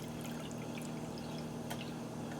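Water is poured into a bain-marie water bath for a game bird and foie gras pâté, a faint, steady trickle under a low constant hum.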